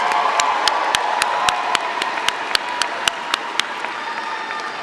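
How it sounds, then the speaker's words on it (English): Graduates at a university graduation ceremony turn to applaud their families, a broad crowd clapping with scattered cheers and whoops, individual sharp claps standing out nearby over a steady wash of applause. "give them a round of applause"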